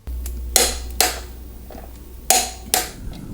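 An old-style torque wrench tightening a bolt on a bike rack for a BMW X3 SUV, four sharp metallic clicks in two close pairs, near and loud over a low hum, with no talk.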